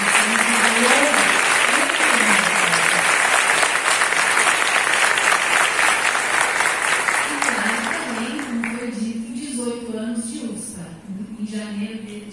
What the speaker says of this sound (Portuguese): Então, uma salva de palmas para essa instituição que valeu.